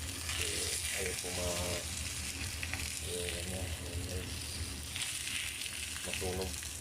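Ham fries in its own rendered fat with a steady crackling sizzle, up close, while a voice talks intermittently over the cooking.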